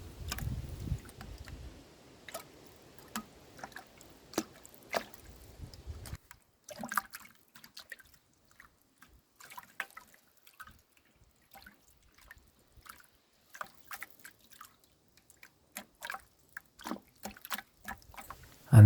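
Coolant drains in irregular drips and small splashes during a back flush of a Volvo BM 500 tractor's cooling system. A brief trickle comes first, then scattered faint drops.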